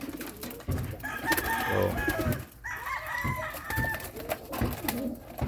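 Pigeons at a loft, several cooing and calling close by with warbling tones, under a brief spoken word and some background clatter.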